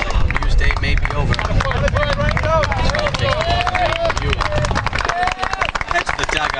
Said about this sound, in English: Head to the dugout with a round of applause from this crowd.